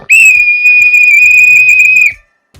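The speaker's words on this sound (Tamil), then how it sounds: "அந்த விசில் எடுத்து ஊதுங்களேன்." A whistle blown once in a long, loud, steady shrill blast lasting about two seconds, then cut off abruptly, with faint background sounds before and after.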